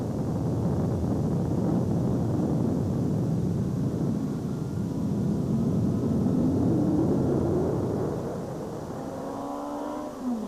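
A helicopter tracks rally cars at the Volkswagen Rally 2007, a continuous loud engine-and-rotor roar with wind buffeting that eases slightly near the end as a car engine whines past.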